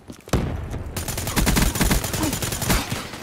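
Rapid bursts of Call of Duty: Black Ops 3 beta gunfire, loud and dense, with sharp repeated shots rattling almost continuously after a brief quiet start.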